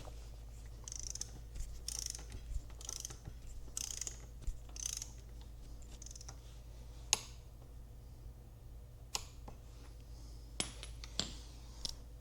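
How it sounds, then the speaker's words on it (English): A torque wrench tightening the wheel fasteners on a DRZ4S motorcycle to 17 foot-pounds gives faint ratcheting and a few sharp, isolated clicks over a steady low hum. "Go ahead and torque that down."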